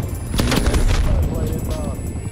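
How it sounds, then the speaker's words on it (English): Sentry gun fire in Call of Duty: Black Ops, a rapid burst of loud, close gunshots followed by scattered further shots under game noise. "Get him, sentry gun."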